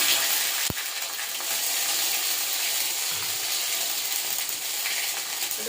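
Panch phoron spices, bay leaf and ginger sizzle steadily in hot oil for a vegetarian shukto, a close, constant crackling hiss broken by one sharp tap near the start.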